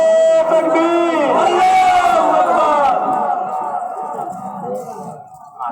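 A large crowd in a Jama Masjid roars back a chanted Islamic reply to a Naara-e-Takbeer call, loud and massed at first, then trailing off into lower, scattered voices.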